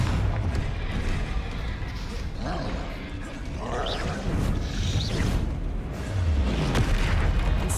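The Confringo blasting spell in Hogwarts Legacy sets off repeated booming explosions with whooshes and crashes, loud and continuous over several seconds of combat, while a voice talks over the action.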